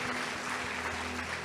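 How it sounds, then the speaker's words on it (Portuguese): A church congregation claps together in a steady, dense wash of applause that fills the whole moment, with a faint low hum running underneath. "Aplaude Ele, aplaude"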